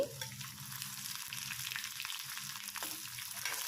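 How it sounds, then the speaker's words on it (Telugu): Cumin seeds, chana dal, urad dal and dry red chillies frying in oil for a drumstick-leaf chutney, giving a steady close crackling sizzle with occasional stirring scrapes, no voices. "జీలకర్ర పచ్చిశనగపప్పు మినప్పప్పు వేసుకొని ఫ్రై చేసుకోవాలండి ఎండుమిర్చి కూడా వేసుకోవాలి"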